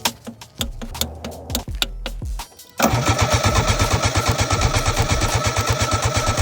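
A home-rebuilt car engine cranks in several rapid starter bursts, then catches and settles into a loud, steady, rhythmic idle heard up close.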